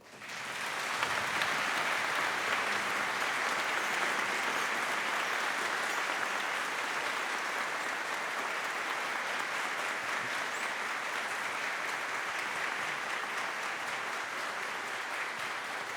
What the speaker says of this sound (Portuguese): Eu queria agora um aplauso especial para essas pessoas.